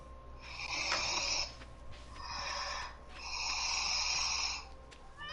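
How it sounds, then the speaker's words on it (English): Loud, rasping snores played back at maximum volume, three long drawn-out bursts separated by short pauses, with steady background hum and no talk. "do you want to hear her snore at maximum volume?"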